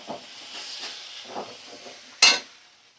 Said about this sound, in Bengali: এবার সমস্ত মশলা আমি ভালো করে 2 মিনিট একটু কষিয়ে নেব।